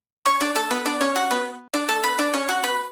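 A bright synth melody plays two short phrases of quick stepping notes, the second after a brief gap, clear and upfront with no other sounds, from a color bass track.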